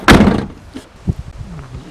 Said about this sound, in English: can you hear? The door is touching the fender.